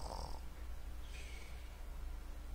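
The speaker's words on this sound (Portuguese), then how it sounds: "Ele tá roncando mais alto" A character in a Roblox video game snores loudly. Steady low rasping breaths rumble faintly throughout, under a soft background hum.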